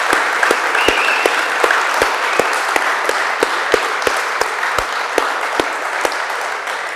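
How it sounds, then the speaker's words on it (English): A crowd applauds steadily and warmly, dense clapping filling the room with a few sharper individual claps standing out throughout. "can we give my team a warm round of applause?"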